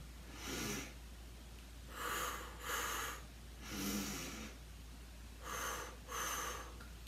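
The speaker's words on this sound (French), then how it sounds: "on inspire en un temps, apnée sur un temps et expiration en deux temps" Slow, deliberate human breaths in a square-breathing exercise: short inhale, a brief hold, then a longer exhale, repeated as six close, breathy bursts in three paired groups over a low steady hum, with no talking.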